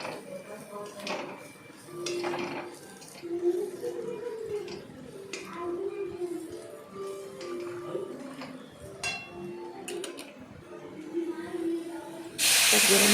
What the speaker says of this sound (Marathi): तर गरम पाणी टाकत आहे आपण